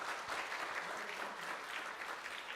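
A church congregation applauds a cake cutting with sustained, steady clapping from many hands filling a large room.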